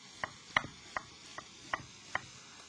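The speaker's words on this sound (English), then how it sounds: "We cut it through this way, that way, and then we slice it through" A knife chopping through an onion on a chopping board, six crisp, evenly spaced thuds close by with quiet pauses between, no voices.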